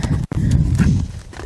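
A horse's hooves clip-clop at a walk in a round pen, with several soft, close thuds on dirt and a low rustle between them, and no talk.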